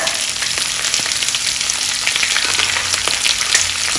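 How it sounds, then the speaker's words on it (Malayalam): Chopped ginger and long-sliced garlic sautéing in a pan for Kerala-style chicken pickle, a steady loud sizzle with crackling pops and occasional stirring scrapes throughout. "ഇത് നമുക്ക് ആദ്യം നന്നായിട്ടൊന്ന് വഴറ്റിയിട്ടെടുക്കണം"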